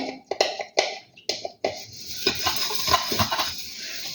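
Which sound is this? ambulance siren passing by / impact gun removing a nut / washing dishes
washing dishes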